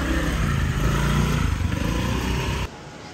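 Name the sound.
motorbike engine while parking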